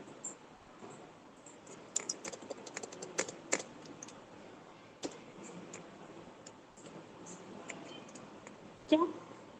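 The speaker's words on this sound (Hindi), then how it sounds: "अपन यहाँ पर टाइप कर देंगे" Computer keyboard typing during an HTML programming class, clusters of light clicking keystrokes in uneven bursts with a few mouse-like clicks, close but soft amid faint background noise and occasional voice.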